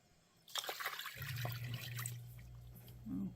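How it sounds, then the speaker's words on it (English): Garlic mixture pours onto a beef brisket, a wet liquid trickle and splash that starts abruptly and runs steadily for about three seconds close by, with a low hum underneath. "I'm going to go ahead and pour this onto my brisket"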